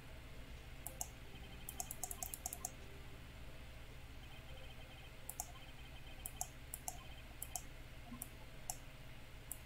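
Computer mouse clicking to skip dialogue in the Ace Attorney Trilogy game: faint, quick bursts of sharp clicks in short clusters over a steady low background hum, with no talking.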